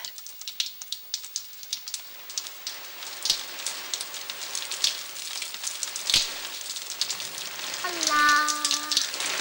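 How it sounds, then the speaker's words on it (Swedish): Rain falls with scattered, crackling drops and patters that are close and fairly faint, and a brief tonal hum comes in near the end. "Ibland regnar det i flera dagar."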